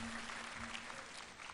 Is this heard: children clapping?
yes